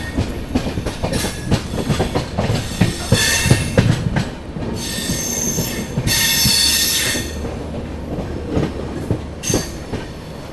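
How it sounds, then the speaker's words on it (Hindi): Goa Sampark Kranti Express rolling onto the Kota line, wheels squealing loudly against the rails in long high shrieks over a steady rumble and clatter of passing carriages, close by and with no one talking. "अपनी ट्रेन को जो है कोटा वाली लाइन पे लिया जा रहा है।"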